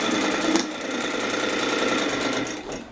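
A sewing machine fitted with a walking foot sews silpoly tarp fabric, running in one steady, close, rapid stitching burst that eases off near the end.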